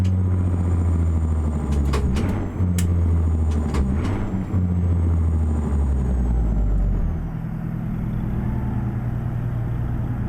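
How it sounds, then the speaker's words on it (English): A two-stroke Detroit diesel engine in a K100E truck in American Truck Simulator idles with a deep, heavy rumble, broken by sharp air brake hisses and clicks, before it settles to a quieter idle. "Sounds like it's got a Detroit over there. Sounds like a two-stroke Detroit."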